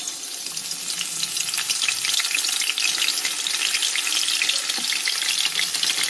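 Stuffed eggplant slices for Bengali begun bhaja frying in hot oil, giving a dense, steady sizzle with crackling that stays loud and close throughout, with no talking.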